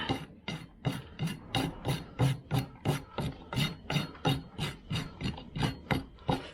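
A rasp files a horse's hoof during barefoot trimming, strong rhythmic strokes repeating about twice a second, close and alone.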